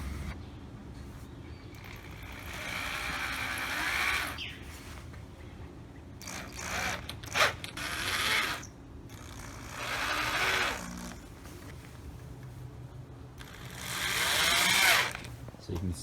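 A power driver sends screws into a wooden dining room chair in several whirring bursts of a few seconds each, separated by quieter handling noise.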